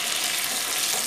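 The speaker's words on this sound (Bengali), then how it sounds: "টমেটো পেঁয়াজ আর লঙ্কাটা কিছুটা সময় নিয়ে ফ্রাই করে নিতে হবে" Tomatoes, onions and chillies frying in hot oil give off a dense, even sizzle that holds steady and close for a brief moment, with no voices.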